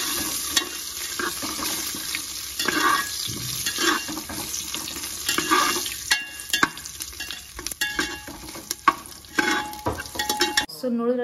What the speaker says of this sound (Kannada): ಆ್ಯಂಡ್ ಹಂಗೆ ಒಂದು ಸ್ವಲ್ಪ ಫ್ರೈ ಮಾಡ್ತಾನೆ ಇರಿ